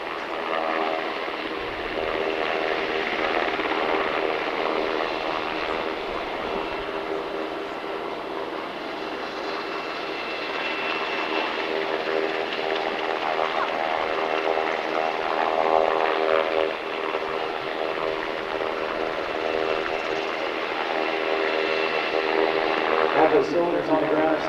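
Military helicopter flying low over an airshow field in Salinas, California during a troop rope insertion, a steady loud rotor and engine drone that holds for the whole stretch while an announcer talks over it.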